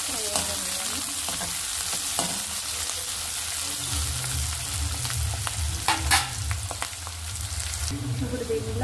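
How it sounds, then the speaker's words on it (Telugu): Onions, green chillies and curry leaves fry in hot oil with a loud, continuous sizzle, broken by occasional sharp clinks and scrapes of a spoon against the pan. "ఉల్లిపాయలు, పచ్చిమిర్చి, కరివేపాకు ఫ్రై అవ్వనివ్వాలి."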